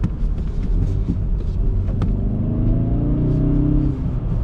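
A Hyundai Veloster N engine blips sharply during a rev-matching downshift, its revs sweeping upward over a steady low rumble of the running car.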